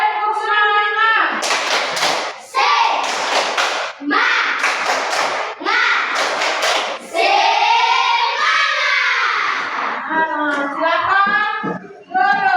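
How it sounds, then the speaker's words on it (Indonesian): A class of children does a rhythmic group clap cheer in a classroom, with loud bursts of clapping in patterned groups mixed with chanting voices and an adult speaking. "Tepuk semangat."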